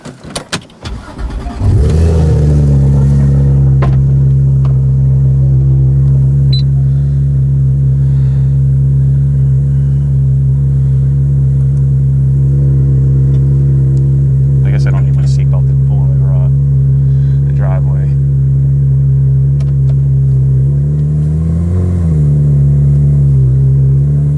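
A car engine starts and settles into a loud, steady running drone close by for most of the clip, swelling slightly near the end as the car is moved, with a few faint clicks and knocks over it.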